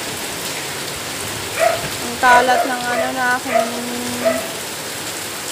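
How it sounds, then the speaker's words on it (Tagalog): Heavy rain falling steadily on surfaces outdoors, a dense constant hiss with someone speaking over it near the middle. "Aba si ate, lumabas pa talaga yung ulan"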